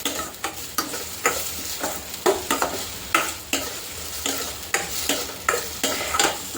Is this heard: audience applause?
no